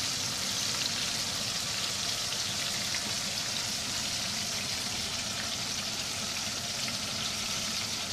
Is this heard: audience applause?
no